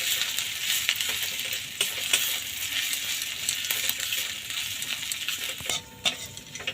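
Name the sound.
ginger paste frying in oil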